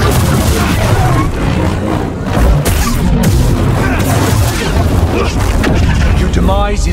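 Blaster gunfire during a boss fight against Dagan in Star Wars Jedi Survivor, a dense, loud barrage of booming shots and crashes running continuously through the clip, with game speech mixed in.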